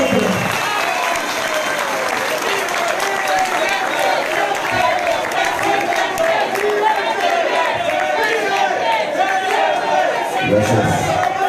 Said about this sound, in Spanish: la 30ª Asamblea recibe esta tarde con un aplauso amoroso y combativo al doctor